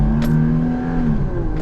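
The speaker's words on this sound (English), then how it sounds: "Let me do a quick wide open throttle here." A Toyota Tacoma's 3.4L engine, troubled by sluggish performance, held at wide open throttle, giving a loud, steady engine roar with a sustained high rev tone and no talking.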